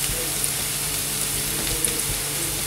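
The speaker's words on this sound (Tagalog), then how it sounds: "Start na tayong maggisa. Gagamit tayo ng bawang. Antayin lang natin na mag golden brown itong ating garlic." Chopped garlic sautéing in a pan until golden brown, a steady close sizzle and crackle of frying running evenly throughout with no pauses.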